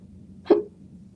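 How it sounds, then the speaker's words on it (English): A single sharp hiccup from a person, brief and fairly close, standing alone against a quiet indoor background. "Oh, I'm starting to get the hiccups."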